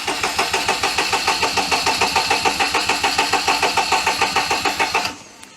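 A Daihatsu Charade's starter cranks the engine steadily for about five seconds in a loud, even rhythmic chug without catching, then cuts off abruptly into near silence.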